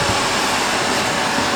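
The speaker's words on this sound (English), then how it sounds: "My vacuum is coming. Let me close the door." A household vacuum cleaner runs close by, a loud, steady broadband roar and hiss that fills the moment without change or pause, with no talking over it.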